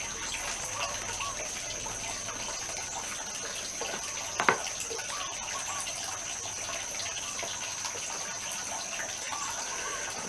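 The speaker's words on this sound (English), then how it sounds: "that water sure does drain fast, doesn't it?" Water draining quickly from an outdoor pond, a steady gushing rush of water with a faint high whine over it and a brief knock partway through.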